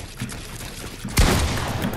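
Gunfire in a Fortnite match: a sharp, loud burst of shots erupts partway through, following a quieter stretch of background game noise, with no speech.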